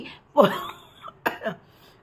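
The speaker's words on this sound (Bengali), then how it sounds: "কাশিটা কিছুতেই কমছে না।" A person with a persistent cough coughs close by: one sharp hacking burst, then two shorter coughs a moment later, with nothing else around them.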